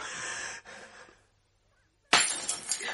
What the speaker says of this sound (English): that's another wine glass gone. Oh, I never touched it, Mrs. Crabtree. It just fell in the sink.